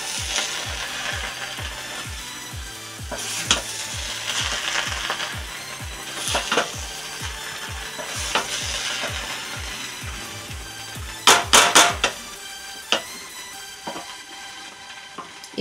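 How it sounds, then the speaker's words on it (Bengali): Basanti pulao rice is stirred in a pan, with repeated scraping strokes and faint sizzling, close and steady, followed by a few sharp metallic clinks near the end. "এবার আমি একটু নাড়া দিয়ে দিই।"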